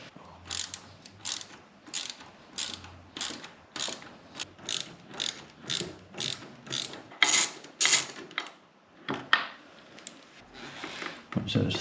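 A ratchet undoing the 10mm bolts on the front sprocket cover of a ZZR1400 motorcycle, heard as repeated close bursts of rapid clicking strokes in an uneven rhythm, fairly quiet, with some background noise between bursts.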